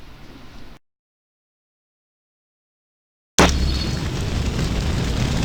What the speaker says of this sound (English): looks like an explosion took place